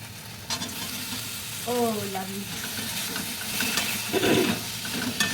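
Fried potatoes being sautéed with spices in a pan, a steady close sizzle with scraping stirs throughout and a brief tonal squeak partway through.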